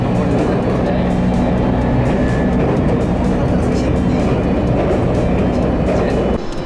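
A local train crossing deep mountain country, heard from inside the carriage: a steady, loud rumble of wheels and running gear with faint rhythmic clatter, continuous throughout and without talk.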